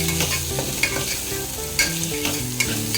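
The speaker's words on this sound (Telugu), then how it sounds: "కొంచెం గరం మసాలా పౌడర్, జస్ట్ కొంచెం టేస్ట్ ఇలా వేయించుకోవాలి." Spices with garam masala, pepper powder and biryani powder frying in a pan for coconut rice, a soft sizzle under repeated close stirring scrapes with no speech.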